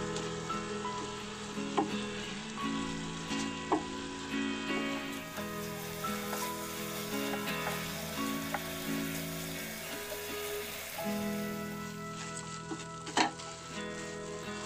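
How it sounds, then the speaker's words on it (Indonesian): Candy mixture for kembang gula cooking down in a pan while being stirred continuously, a steady close sizzle and bubbling with occasional scraping clinks of the spoon, no talking. "Kita masak lagi sampai dia tidak berair. sambil terus diaduk-aduk ya supaya tidak gosong."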